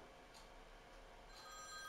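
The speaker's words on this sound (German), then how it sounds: "Nicht mal ein Telefon, das ist ja ein Telegraph." Old telegraph-style bell ringing inside a VR horror adventure game, a steady continuous electric ring with bright repeated bursts, heard alone at moderate level against a dense background hum.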